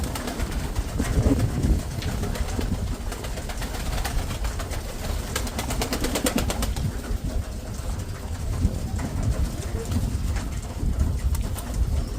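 Pigeons coo steadily in a backyard loft while wings flutter in bursts, a dense continuous chorus with a constant background rumble and no talk.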